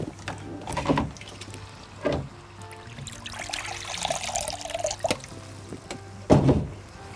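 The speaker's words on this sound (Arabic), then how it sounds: "نحط شوية مية،" Water is poured in a few short splashes and trickles into a cooking pot of meatballs and potatoes, with quiet kitchen clatter between pours.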